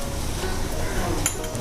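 Raw chicken is mixed with herbs and salt in a bowl, making a steady, close, wet rustling and squelching with a faint clink near the end.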